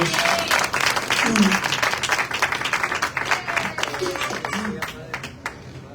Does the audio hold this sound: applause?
yes